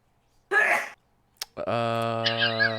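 A single sharp sneeze bursts out at close range, followed by a brief click and then a sustained tonal vocal sound.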